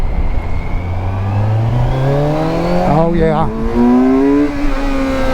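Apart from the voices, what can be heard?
Kawasaki Versys 1000 motorcycle accelerating, exhaust note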